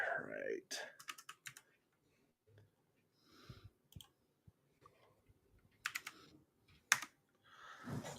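Sparse, quiet keystrokes and clicks on a computer keyboard tap out in short irregular clusters with long gaps, near and soft, with faint breathy voice sounds at the edges.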